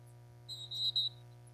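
A referee's whistle at a lacrosse semifinal sounds as a few short, fairly faint shrill blasts in quick succession over a steady low hum.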